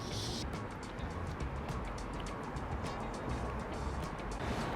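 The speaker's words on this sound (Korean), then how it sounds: "밖에 자동차가 너무 많이 다녀서 소리가 굉장히 큰데" Heavy car traffic at Jamsil Station Exit 10, a continuous low rumble of passing vehicles that stays at a moderate level, with no speech.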